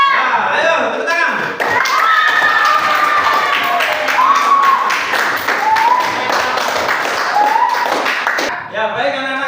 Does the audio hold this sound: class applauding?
yes